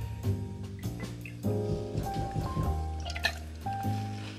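Campari poured for a Jungle Bird cocktail, a short measure splashing and dribbling into a glass in brief liquid bursts over steady background music.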